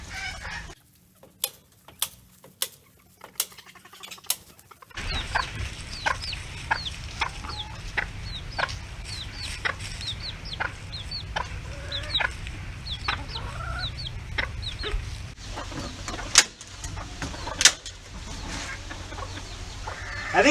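Chickens in a chicken run clucking repeatedly, sharp close clucks spaced out at first, then more frequent alongside a steady background hum.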